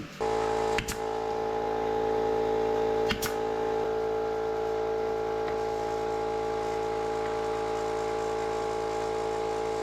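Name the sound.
brad nailer nailing a board to the bench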